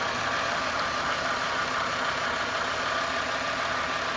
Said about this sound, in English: I've got a little bit of a whine. I think the belts are too tight.